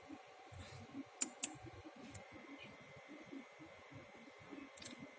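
A computer mouse's left button clicks a few times, quiet and close, with sparse sharp taps over a faint room hum.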